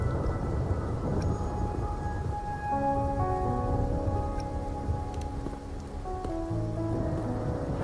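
Steady rain in the game Wuthering Waves patters on a surface throughout, while soft sustained musical tones drift over it.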